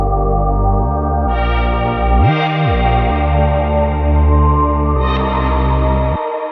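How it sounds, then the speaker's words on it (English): Short musical chunks in a future garage production, processed with reverb and a high-pass filter, forming sustained tonal chords that shift every second or so, smooth and washy with no voices. "I just took these little chunks, put that through a little bit of reverb and a high pass filter."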